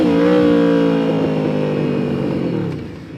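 A 200 hp second-generation Yamaha Vmax 1700 cruiser accelerating hard, its engine note rising in a loud, close, rich roar that climbs in pitch before easing off near the end.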